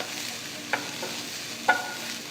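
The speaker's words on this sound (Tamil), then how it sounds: "இதெல்லாம் சேர்த்து 5 நிமிஷம் வதக்குங்க." Chopped carrots, beans and capsicum sauté in a pan with a steady soft sizzle, broken by two light scraping stirs of a spoon, close up with no talking.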